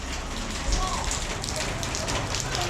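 Steady rain pattering on a hard surface in a street in Macau, a dense even hiss with occasional heavier drops, continuous throughout.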